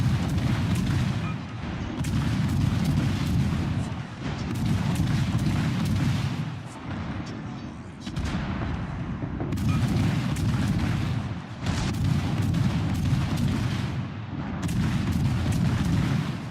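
Naval gunfire in a warship video game striking the ship Edinburgh: repeated heavy booming blasts and rumbling impacts in rhythmic salvos every couple of seconds, loud and close, with no talking.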